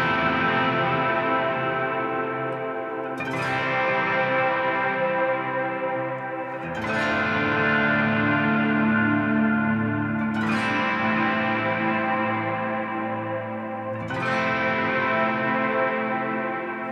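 Guitar chords from the worship song Perderme en ti, played through an ambient reverb effect: five long, washy chords struck roughly every three and a half seconds, each swelling and ringing into the next, with no voice.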